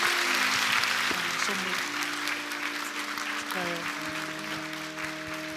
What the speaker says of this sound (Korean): 우리 신혼부부 박수로 축복하시겠습니다